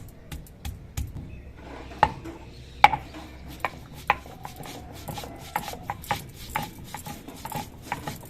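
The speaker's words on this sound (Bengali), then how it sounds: "অল্প করে একটু রাঁধুনি আর অল্প করে একটু আদা বেটে নিচ্ছি" Ginger and radhuni spice are ground into a paste by hand, making irregular rubbing and scraping strokes with occasional sharper knocks, close and alone.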